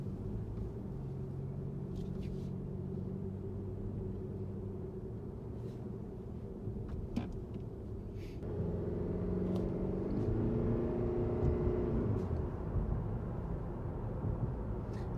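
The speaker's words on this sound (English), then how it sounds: "I turn it to eco and still using the gas motor, but the battery is still kicking in and helping." A 2019 Lexus ES 300h hybrid in eco mode, its gas engine running, gives a low steady cabin drone with a faint road rumble. The engine hum steps up louder about halfway through and stays raised.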